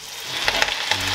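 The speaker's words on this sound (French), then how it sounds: "Ça commence, vous l'entendez, à fristouiller gentiment." Shallots and garlic sizzle gently in a pan with watercress, a close, soft, steady frying crackle with a few small pops and no voices.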